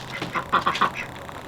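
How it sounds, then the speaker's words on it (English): A Pekin duck quacks outdoors in a quick burst of four or five loud, nasal calls, followed by a few fainter quacks trailing off. "The lighter one, that's the Pekin duck doing all that."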